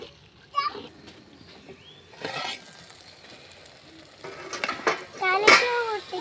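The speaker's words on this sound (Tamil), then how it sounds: "கலக்கி ஊற்றிக்கலாம்." Stirring and pouring while cooking kathirikai kara kulambu, an eggplant curry, with scattered clinks of utensils against a pot, short pouring and sizzling bursts, and a voice heard at times.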